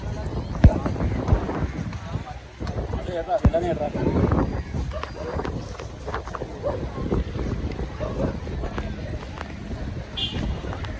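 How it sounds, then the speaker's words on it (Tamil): Wind rushes and buffets the microphone amid a steady wash of falling rain on a hill during a lightning storm, with people talking intermittently beneath it. "மழை காற்றுலாம் வேற நல்லா அடிக்குது கைஸ்."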